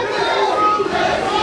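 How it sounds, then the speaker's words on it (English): Wrestling crowd at an EWF anniversary event roars and shouts in a dense, continuous wash of cheering voices, loud and sustained for the whole moment. "You can even hear the crowd."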